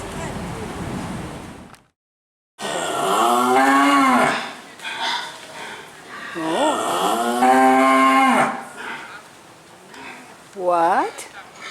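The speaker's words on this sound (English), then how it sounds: "Can you give us a moo?" A two-year-old yearling cow on a farm gives several long, loud, close moos in a row, the calls separated by brief pauses and wind noise.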